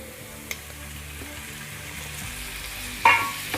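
Roughly chopped large tomato goes into a pan of frying carrots and peas, and a soft, steady sizzle runs throughout with a couple of light knocks from stirring.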